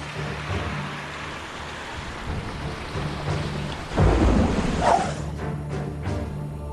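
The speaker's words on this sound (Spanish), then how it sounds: "Durante 24 horas, la tormenta azotó la costa de China" Heavy rain pours steadily during a typhoon on the Chinese coast near Shanghai, while a deep roll of thunder swells midway and then fades back into the constant downpour.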